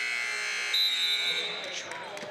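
A long, loud electronic buzzer drones steadily over crowd noise in a gym during a high school girls' basketball game, then cuts out as cheering and chatter continue.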